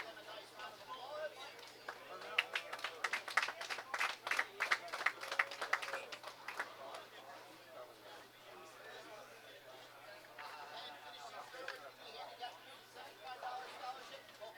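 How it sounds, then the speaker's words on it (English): A bowling crowd claps for under-21 doubles scholarship winners at a bowling alley. A burst of scattered applause swells, then fades into a murmur of background voices. "Let's give them a nice round of applause."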